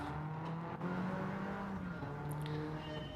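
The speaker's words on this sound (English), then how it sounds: "Hopefully the car's loud enough for you guys." A Peugeot 205 GTI engine in Gran Turismo 7 hums and revs steadily at a moderate, somewhat distant level, the pitch shifting as the throttle rises and falls over a few seconds.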